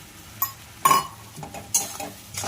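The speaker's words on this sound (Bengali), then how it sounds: "এবার এটাকে ভালো করে নেড়ে নেব" Drumstick pickle with jaggery and tamarind is stirred in a pan, a few scraping strokes and metal clinks in short irregular bursts over a faint sizzle, close and without talk.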